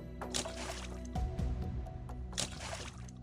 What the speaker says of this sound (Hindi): भोला की माँ लकड़ियों को पानी से धोने लगती है।